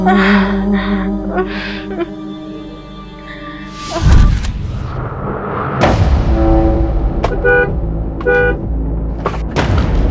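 A car horn toots several times in short bursts, with a thump and passing traffic noise in between.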